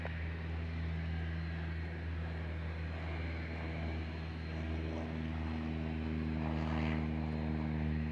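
A propeller aircraft at Van Nuys Airport, California, holds a steady, droning engine hum with strong low harmonics, close and unbroken, with a faint radio-like wash above.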